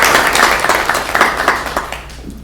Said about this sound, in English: So round of applause for you guys.